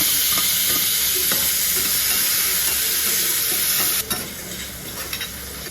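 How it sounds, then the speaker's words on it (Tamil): Onions and tomatoes frying in oil in a kadai for a Madurai-style mutton curry, a loud steady sizzle with stirring scrapes throughout that drops a little in level near the end. "அதே கடாயை வச்சு அந்த எண்ணெயிலே வெங்காயத்தை போட்டு வதக்கி அடுத்து தக்காளியை போட்டு அதில் நல்லா வதக்குவோம்."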